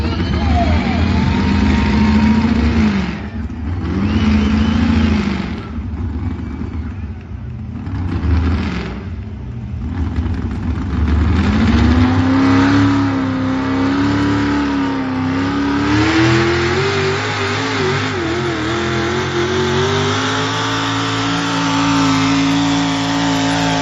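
Truck engine at a truck pull revving hard and droning under load, loud and close, its pitch rising and falling over long sustained pulls, with a commentator talking.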